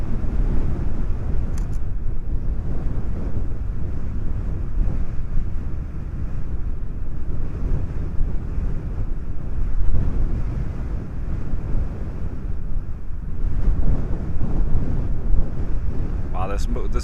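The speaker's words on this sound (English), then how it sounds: "This wind is upwards now, 50 kilometers an hour, that's for sure, and it's getting stronger." Strong wind roars steadily across the microphone at a giraffe viewing spot, blowing at around 50 km/h and getting stronger, a constant buffeting rush with gusts swelling throughout and no talk.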